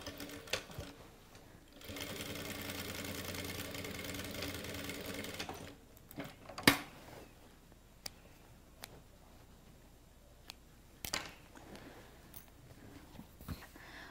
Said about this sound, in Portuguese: vou passar essa mesma costurinha igual, inicio com o nó, finalizo com o nó